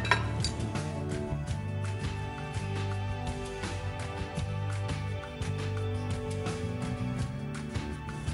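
Flambéed gambas prawns being plated, with repeated clinks and scrapes of metal utensils against a plate and pan, close and fairly busy, over a low steady kitchen hum.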